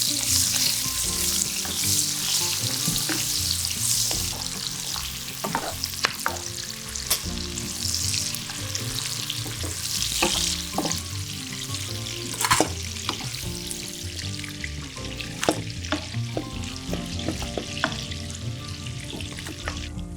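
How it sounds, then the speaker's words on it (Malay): Shallots, bird's eye chillies and other ingredients fry in a pan for a Malaysian ayam penyet, a steady loud sizzle with frequent stirring clicks and scrapes throughout. "boleh goreng semua bahan-bahan lain sampai layu"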